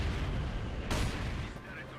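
Mortar fire in the Company of Heroes 2 World War II strategy game: a sharp blast with a rumbling tail, then a second fainter burst, over a dense low battle rumble.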